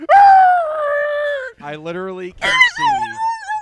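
A dog struck by a car on a road lets out long, drawn-out howls and whining yelps close by, with a short break before a final rising wail.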